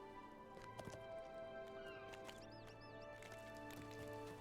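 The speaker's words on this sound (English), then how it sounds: "I'm using the speedy horse." Rapid clip-clop of a fast horse's hooves in the Lord of the Rings Online video game, steady trotting beats over a dense layer of in-game music and ambient tones, with occasional bright chimes.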